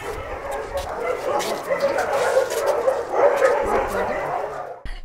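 Dogs at an animal shelter bark, yip and whimper in a noisy chorus that runs throughout, mixed with a steady din of voices and activity, ending abruptly.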